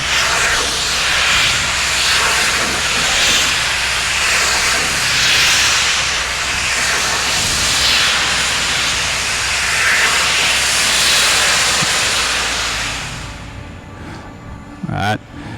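A Hammelmann high-pressure water jet pump blasts at a demo as a loud, continuous roaring hiss, then cuts out near the end, leaving a quieter background with a brief sound.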